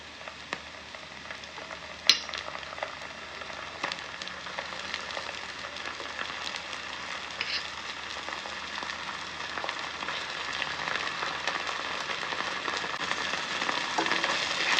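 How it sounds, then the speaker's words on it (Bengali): Cumin, ginger and dried red chili paste frying in hot oil, giving a steady, fairly quiet sizzle and crackle that builds gradually, with one sharp clink near the start and no talking. "এবার এর মধ্যে দিয়ে দেবো জিরে বাটা, আদা বাটা এবং 4-5টা শুকনো লঙ্কা বাটা একসাথে আমি পেস্ট করে নিয়েছি, সেটা এখন কষিয়ে নেব।"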